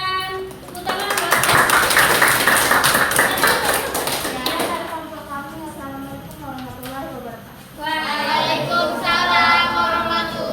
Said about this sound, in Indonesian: berikan tepuk tangan buat